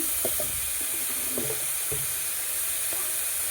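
Chicken pieces frying in a pan, a continuous loud hiss and sizzle with a few clattering stirs and scrapes of the utensil near the start and middle.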